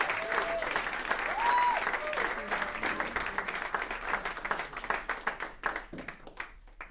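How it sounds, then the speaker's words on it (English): An audience claps at a live talk event, dense applause with cheers that gradually thins into scattered individual claps toward the end. "give a round of applause"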